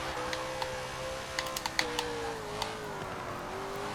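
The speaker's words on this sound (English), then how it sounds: "You can hear me aggressively clicking left to right as I try to maintain a straight line path with this car." Rapid keyboard clicks tap out steering inputs in Forza Motorsport 7, a string of quick sharp taps layered over the steady engine drone and tire whine of a muscle car in the racing game.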